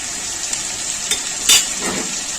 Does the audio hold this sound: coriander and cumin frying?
yes